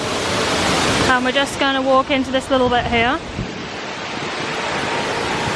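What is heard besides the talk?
small waterfall at a theme park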